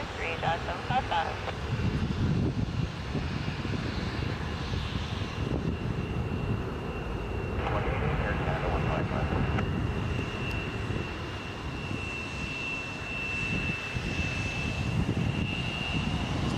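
Steady broad roar of an airplane taking off at Toronto Pearson airport at dusk, heard from a distance, with a faint high engine whine throughout and people talking under it.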